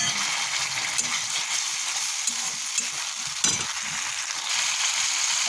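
Tomatoes and spices sizzle in a frying pan with a dense, steady hiss that runs unbroken throughout, close and fairly loud, with a few faint clicks of stirring on top.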